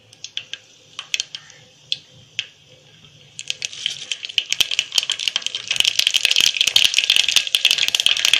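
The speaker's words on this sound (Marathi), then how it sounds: "मोहरी आपली तडतडली." Mustard seeds crackle in hot oil in a home kitchen for a Marathi sprouted moth bean curry, first scattered sharp pops, then a fast, loud, dense rattle of spattering seeds as the oil heats up.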